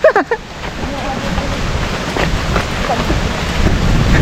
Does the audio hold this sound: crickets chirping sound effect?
no